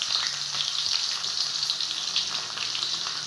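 Garlic, mustard seeds, fennel and cumin sizzle steadily in hot oil for potato rice, a dense, close, continuous crackling fry with no talking.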